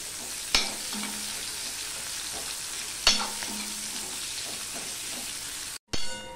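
Medium onion frying in oil with panch phoron seeds for a Bengali rohu fish curry, a steady low sizzle broken by two sharp clattering stirs and a brief dropout near the end, with no voices.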